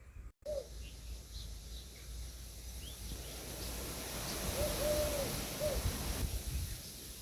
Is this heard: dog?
no